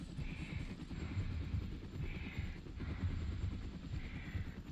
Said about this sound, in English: Maybe it's the helicopter.